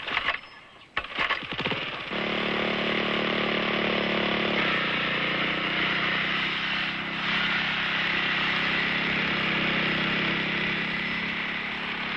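A cartoon lawn-mowing invention engine runs in a Disney television show, a loud continuous buzzing motor drone that starts after a couple of seconds of clattering and holds steady to the end.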